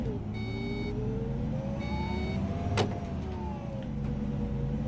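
An Iveco Evadys bus in OMSI 2 pulls away, its engine note climbing in smooth rising whines as it moves off, with brief electronic beeps and a short sharp hiss partway through.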